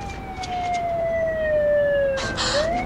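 A police car siren wails nearby in a drama scene, a loud sweeping tone that falls and then rises again, with a brief burst of noise near the end.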